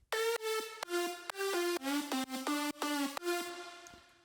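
Layered Serum synth patches play together as a bright, harmonically rich melodic line of sustained notes with sharp attacks, ending on a fading held tone, with no voices.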